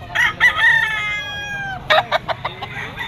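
Green-legged stag rooster crowing once loudly and close, a drawn-out crow followed by a few short clucking notes.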